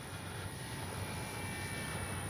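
A 3X Flex RV8 60E electric RC airplane flies slowly into the wind, its steady motor whine and propeller drone holding even and fairly distant throughout, with no talk.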